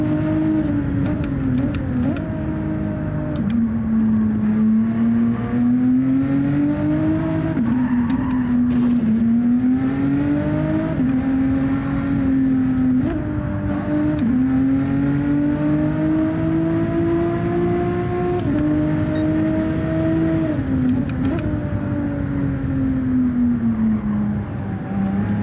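Race car engine in Gran Turismo 7, a steady loud drone that rises and falls in pitch as the car accelerates, shifts gears and brakes through corners, running continuously with no talk over it.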